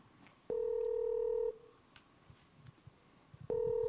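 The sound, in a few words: telephone dialing tones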